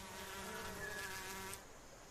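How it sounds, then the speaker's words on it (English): Oversized hornets in Southwest China give a close, steady buzz that drones for about a second and a half and then drops off, with no voices heard. "these oversized wasps don't just rely on sticky syrup to survive"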